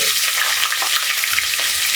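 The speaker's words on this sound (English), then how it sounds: "We are going to add the chopped onions." Chopped onions frying in hot oil for a pilau, a steady dense sizzle that stays loud and close throughout with only faint stirring underneath.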